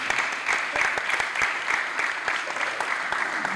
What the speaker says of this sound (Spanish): Sí, ahí sí pido un fuerte aplauso